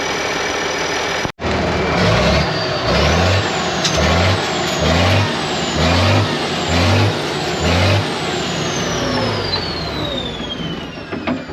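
An International Harvester IH 4166 tractor engine runs after sitting abandoned, with a loud diesel rumble surging in a regular rhythm of about six revving pulses, then settling into a steadier idle, close by.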